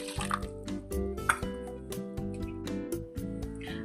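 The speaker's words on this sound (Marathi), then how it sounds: "या तुपामध्ये मी एक वाटी कोमट असं दूध घेतले" Warm milk is poured into homemade ghee in a pan, producing close, bubbly gurgling and dripping liquid sounds in short irregular bursts.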